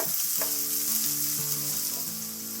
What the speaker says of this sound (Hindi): अब इसको हम फ्राई करेंगे।